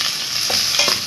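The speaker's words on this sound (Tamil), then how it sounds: "3 பச்சை மிளகாவை கட் பண்ணி இந்த மாதிரி போட்டுட்டு வதக்கணும்." Chopped green chilies sautéing in a pan for crab curry, a loud close sizzle with brief stirring scrapes.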